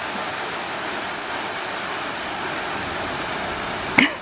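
A waterfall on the Great Ocean Road roars as a steady, broad rush of falling water. A brief sharp knock sounds near the end.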